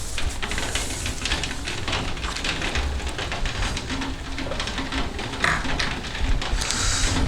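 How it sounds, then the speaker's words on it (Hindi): Heavy rain falling outdoors makes a dense, steady hissing roar with no let-up, loud and continuous throughout. "थोड़ा सा बारिश को लेके यहाँ डिस्टर्बेंस हो रहा है।"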